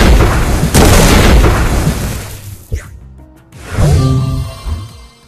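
Big Explosion attack effect from the Pokemon TCG Online video game: a loud, booming blast with crackling debris that fades, then a second chime-like burst with tonal sparkles, heard alone without talking.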